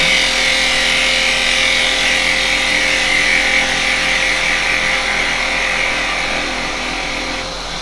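A wood lathe spinning as a gouge cuts into a turning piece of hard-grained wood, giving a steady, close, loud hissing scrape that holds constant throughout and eases slightly at the end.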